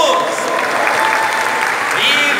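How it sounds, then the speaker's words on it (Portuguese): Warm, dense clapping from a crowd at a Christmas event at a daycare, steady and loud throughout with a voice faintly heard under it. "Uma salva de palmas para Jesus."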